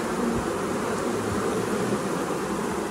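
Honey bees buzz steadily around an open hive, a dense continuous drone holding at an even level throughout with no voices.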